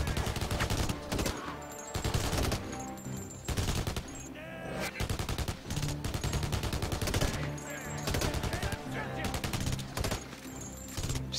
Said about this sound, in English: Oh, crap, he's shooting me.